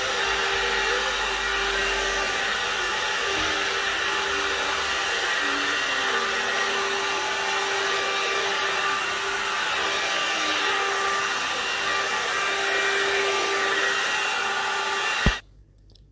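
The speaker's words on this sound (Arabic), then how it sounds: "غندوز دابا في الاسبيراتور على الدار كامله" A vacuum cleaner runs continuously through a house cleaning job, a steady loud motor whine with a faint pitch wobble as the hose moves, cutting off abruptly near the end.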